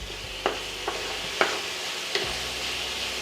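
Chicken coated in store-bought fajita seasoning fries in a single pot for a southwest chicken and rice dish, with a steady close sizzle broken by four sharp scrapes of stirring spaced about half a second to a second apart.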